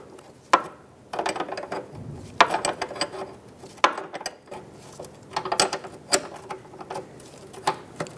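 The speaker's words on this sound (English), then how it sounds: "Now continue unthreading this fitting." A wrench working loose a rear brake hose line fitting on a 2012-2018 Nissan Altima, heard as quiet, irregular metallic ratcheting clicks and creaks in short bursts, close by, with no talking.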